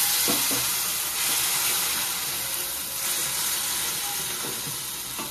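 A little water goes into frying ginger-garlic masala in a pan while chana masala is being cooked, giving a loud, steady sizzling hiss that continues with slight swells and no talking.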